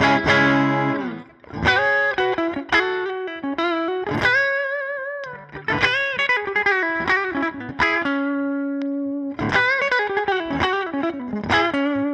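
Electric guitar with a SolderX mod, its bridge pickups wired out of phase, plays distorted chords and single notes with effects, a thin honky tone in bursts and sustained held notes, close and alone.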